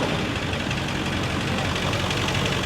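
A Ford 6.4 Power Stroke diesel engine runs with an exhaust leak, giving a loud, steady, dense rumble with a faint ticking texture that holds without a break. No one speaks.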